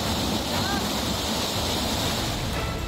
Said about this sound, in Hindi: पानी की लहरें घरों के अंदर घुस गई।